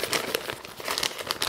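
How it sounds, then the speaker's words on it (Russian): Close crinkling and squeezing of a plastic piping bag as light and dark cream inside is kneaded to blend the colours for ranunculus piping, a brief run of rustling pulses. "Здесь в пакете мы можем небольшой массаж сделать,"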